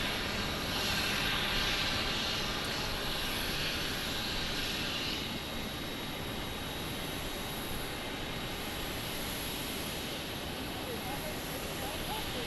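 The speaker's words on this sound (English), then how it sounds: "This is flight 980 from Baltimore, 737 MAX 8." A Boeing 737 MAX 8 jet roars at Phoenix Sky Harbor Airport, a loud, steady broadband engine rumble that holds for the whole stretch, heard from nearby at the airport.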